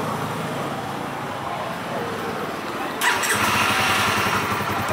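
2015 Honda CBR motorcycle engine starting remotely through its alarm system, with a steady idle rumble before a sudden louder catch and continuous running after about three seconds, close by.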